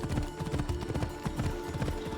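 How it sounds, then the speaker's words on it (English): Horse hooves gallop in steady, rapid clip-clop rhythm while riding through Greece in Assassin's Creed Odyssey, close and loud over a continuous game soundscape and music. "I guess that's what you get if you ride a demon horse from hell"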